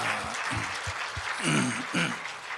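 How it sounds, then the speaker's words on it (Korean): An indoor audience at a talk event applauds to welcome a speaker, a moderate wash of clapping, with voices briefly audible underneath. "박수로 모시겠습니다."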